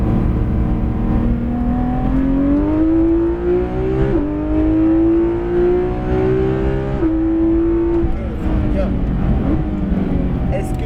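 A Porsche 911 GT3 RS PDK of the 991.2 generation on the Le Mans Maison Blanche circuit, its engine droning loud and close with rising pitch through each gear and quick shift drops, running continuously throughout.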